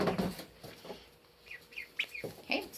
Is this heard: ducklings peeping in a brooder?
yes